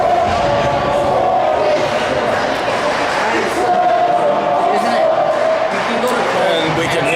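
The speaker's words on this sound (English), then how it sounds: "We can hear Portland's cheering section lighted back up again." Crowd noise fills a hockey arena, with cheers and shouting rising and falling, while a commentator talks over it.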